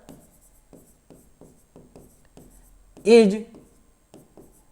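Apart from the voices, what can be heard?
writing on a board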